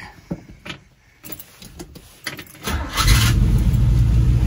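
A 1967 Chevrolet El Camino engine cranks with a few quiet clicks and turns, then catches and roars into a loud, steady idle that fills the last couple of seconds.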